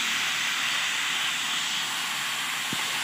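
Chicken fries in a pan, giving a loud, steady, broadband hiss and sizzle from close up, with one brief low thump near the end and no talking.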